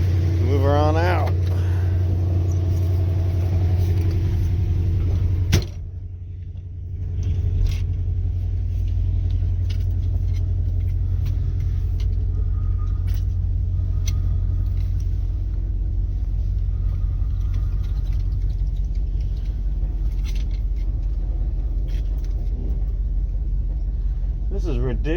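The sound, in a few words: worn-out car engine running as car is moved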